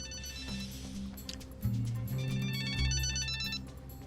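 A telephone ringtone trills in repeated bursts, fairly loud and close, over a steady low background with no talking, in a Hindi/Urdu-dubbed drama.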